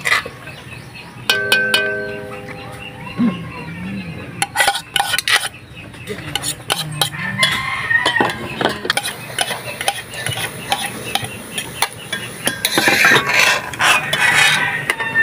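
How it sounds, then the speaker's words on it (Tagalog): Hotdogs frying in a home kitchen pan, with clattering utensils, stirring and scraping against the pan over a steady background sizzle, plus scattered clinks throughout. "magprito na po tayo ng hotdog po"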